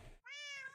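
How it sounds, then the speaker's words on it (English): A cat in a video game gives a single clear, drawn-out meow right after a brief noisy burst, close and fairly quiet, with no talking over it. "That was a cat that wanted to be friends."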